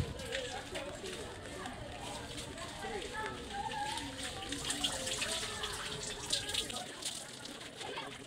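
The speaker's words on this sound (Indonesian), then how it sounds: "Bila sudah disiram dengan air bersih, siram lagi dengan air kapur barus." Clean water is poured steadily during a ritual washing demonstration, a continuous close splashing and trickling stream that runs throughout.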